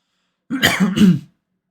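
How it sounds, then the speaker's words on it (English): A single throat clearing, short and close, with a rough gravelly rasp in two quick pushes, then silence. "I gotta clear my throat a little bit"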